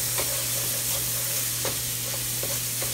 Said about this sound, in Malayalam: ഇനി നമുക്ക് ഈ മസാല എല്ലാം ഒന്ന് ഈ ഉള്ളിയായിട്ട് ഒന്ന് വഴറ്റിയെടുക്കാം.